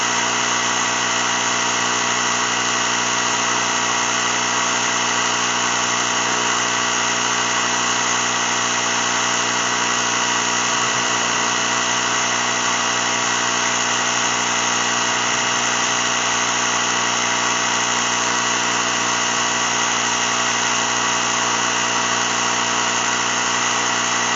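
A Ryobi ONE+ 18V mini compressor runs nonstop while filling a tire, a loud, steady mechanical drone with a high whine and constant pitch, alone without any talk.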